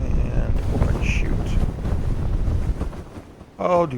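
Strong wind roars during a parachute descent in a video game, a dense, loud rush that keeps on through the whole stretch and ends in a short burst of tonal game sound.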